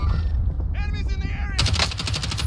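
Gunfire in Call of Duty Warzone: a dense, rapid automatic burst crackles loudly over a constant low rumble of game noise, preceded by fainter scattered shots.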